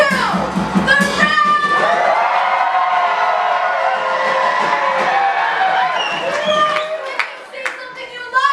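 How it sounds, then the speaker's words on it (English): A theatre audience at an Elizabethan-style Macbeth performance lets out a loud, sustained group cheer with shouting voices and some clapping, holding steady for several seconds before tapering off near the end. "let me hear your best growling cheer"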